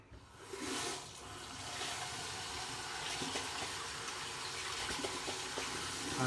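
Water runs steadily from a tap while a face is wetted before shaving, a continuous close splashing hiss with a brief surge near the start, alone without talk.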